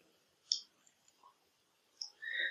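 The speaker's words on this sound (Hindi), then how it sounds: "जिसपे मैं क्लिक कर रहा हूं" A computer mouse clicks while a desktop program icon is opened, with a few short, sharp, quiet clicks spaced apart in a near-silent room and no talking.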